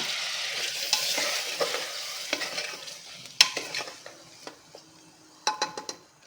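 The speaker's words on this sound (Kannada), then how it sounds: "ಈಗ ಮಸಾಲೆ ಇದೆಲ್ಲ ಸ್ವಲ್ಪ ಫ್ರೈ ಮಾಡ್ಕೊಳ್ಳೋಣ." Ground masala fries with mutton in a cooker pot for a drumstick mutton curry, giving a soft sizzle under repeated scraping strokes of a spoon and a few sharp clinks against the metal.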